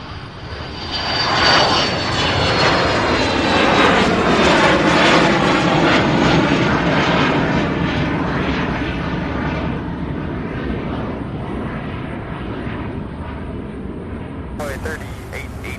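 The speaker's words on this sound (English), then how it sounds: "This next 767 heading to Sacramento, California, UPS 2440." UPS Boeing 767 jet at Louisville airport, engines roaring loud and near in a long sustained swell that slowly eases off, with air traffic control radio chatter heard over it.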